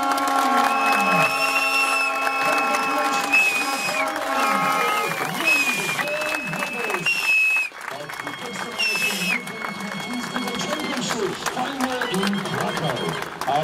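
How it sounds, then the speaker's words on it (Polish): A crowd claps and cheers steadily at a medal ceremony for the U23 European team championships in Kraków, while an announcer speaks over the applause. "Wielkie brawa!"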